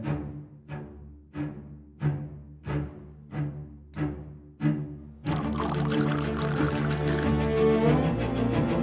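Water is poured into a glass indoors, a series of short ringing plinks followed by a steady, continuous pouring rush, fairly quiet and close.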